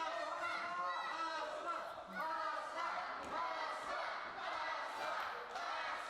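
A pro wrestling crowd cheering and chattering behind a hometown favorite, a dense steady roar of many voices filling the arena throughout, with excited shouts rising now and then.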